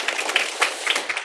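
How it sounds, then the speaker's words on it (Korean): Church congregation clapping at a Sunday service in a Korean church, a brief burst of dense, lively applause from many hands. "다시 한번 힘차게 박수로"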